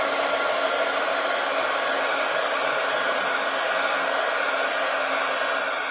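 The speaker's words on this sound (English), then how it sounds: "Heat gun alert." A heat gun blows steadily and loudly throughout, a continuous broadband rushing whoosh with no pauses, used while working on a small fall-themed journal page.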